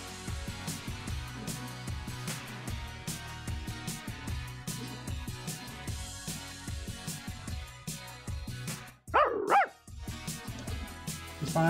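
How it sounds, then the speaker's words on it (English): A puppy in the PS3 game Barbie & her Sisters Puppy Rescue barks in quick repeated yaps over game music, ending with a couple of whimpering yips. "Puppy."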